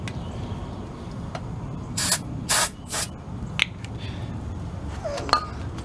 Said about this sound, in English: Let's try a little bit of carburetor cleaner.